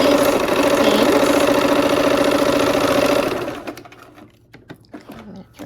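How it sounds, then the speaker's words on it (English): A sewing machine stitches quilt seams in a steady, loud, whirring run close by, then stops, leaving scattered clicks and handling noises. "we're gonna sew these seams"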